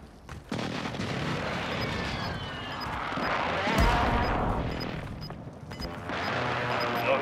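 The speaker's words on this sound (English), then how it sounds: "visual on the target, strike inbound." Airstrike explosions in a combat video game, with a series of loud blasts and booming impacts rolling on continuously, one heavy detonation standing out midway and layered crashes and debris throughout.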